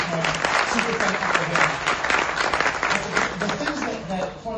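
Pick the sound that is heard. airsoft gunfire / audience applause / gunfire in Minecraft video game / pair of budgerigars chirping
audience applause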